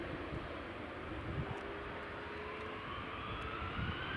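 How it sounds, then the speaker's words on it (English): A Delta Boeing 767 takes off from runway 24 at Edinburgh Airport, its jet engines a steady broad roar from a distance with a faint rising whine, no voices. "Delta 767 departing runway 24"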